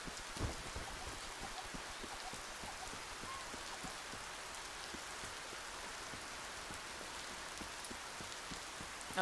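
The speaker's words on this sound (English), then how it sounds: "Oh no, it's raining." Steady video-game rain patters densely on a surface, an even hiss with scattered drop hits, constant throughout with no talking.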